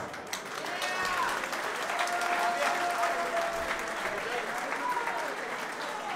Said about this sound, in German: Einen großen Applaus für beide Kämpfer.